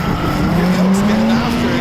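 Drift race cars sliding close together on a course, tires squealing in a loud, sustained screech over roaring engines, with the squeal's pitch sweeping slowly upward.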